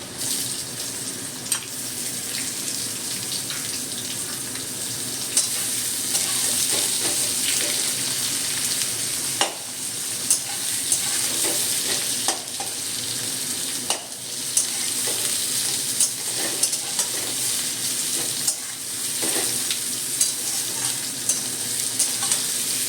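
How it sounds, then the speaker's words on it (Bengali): Onion and potatoes fry together in a pan with a continuous hissing sizzle, broken by regular scrapes and knocks from a stirring spoon, close and fairly loud, with no one talking. "আলুর সাথে পেঁয়াজটা বন্ধুরা আমি 4-5 মিনিট ভেজে নেব"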